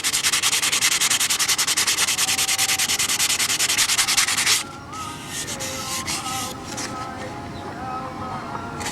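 The interior of a Novanta RJ90 model aircraft cowl is sanded by hand in fast, steady scratchy strokes for about four seconds before the rubbing stops and a softer, uneven background follows.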